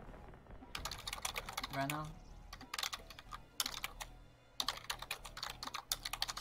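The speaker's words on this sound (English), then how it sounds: "She's typing." Someone types on a computer keyboard in quick clattering bursts with brief pauses, close and fairly quiet, while a voice speaks briefly.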